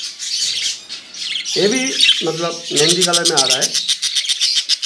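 Kolkata lovebird chicks in a breeding box give repeated high, thin chirps and squeaks, close and fairly loud, while someone talks over them.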